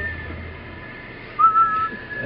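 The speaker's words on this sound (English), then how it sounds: "So proof you can whistle." A short, clear whistled tone rises in pitch and holds briefly, alone over faint background hiss.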